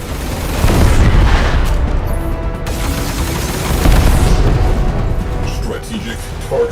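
Torpedo explosions in the Warframe space battle Call of the Tempestarii: loud, overlapping deep booms roll continuously, with sharp blasts layered over heavy rumble and game voices talking through the barrage.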